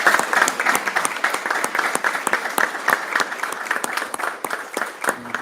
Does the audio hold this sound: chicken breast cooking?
no